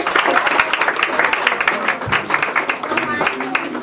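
Clapping from a gathering at a Christmas and New Year celebration, close and dense, mixed with voices and cheering over the steady applause.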